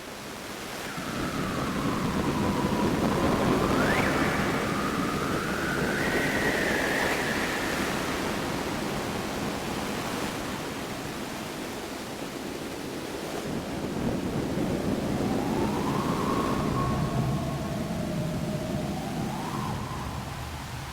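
Filtered noise runs through a Make Noise QPAS stereo bandpass filter, a broad windy, surf-like wash with resonant peaks sweeping slowly up and down, steady and fairly quiet throughout with no talk.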